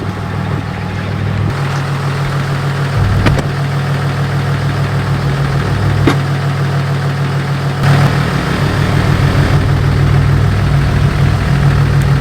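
A big monster truck engine idles close by with a deep, steady rumbling throb, holding an even level throughout with a few brief shifts in tone and small clicks.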